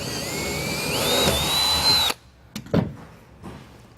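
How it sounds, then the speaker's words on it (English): A power drill with a 1/4-inch bit whines steadily for about two seconds while drilling a hole to mount a seat on a boat, its pitch rising as it bores, then stops abruptly, followed by a few light knocks and clicks. "Drill the first hole."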